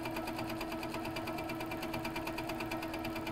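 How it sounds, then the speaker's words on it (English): An HQ Capri sewing machine stitches steadily, giving a close, continuous mechanical whir with fast even needle clatter throughout, no talking. "now I'm going to stitch some more"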